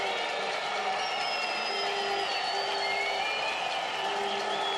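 A stadium crowd at a New Mexico United soccer match roars through the Magic Minute, a dense sustained wall of cheering and whistles heard from a distance, with no pauses.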